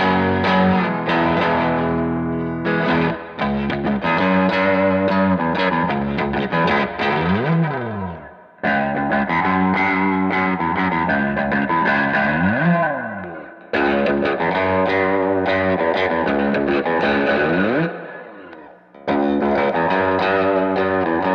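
Baritone Telecaster electric guitar played through distortion and chorus effects, with thick, sustained chords and swelling bends in several long phrases separated by brief pauses.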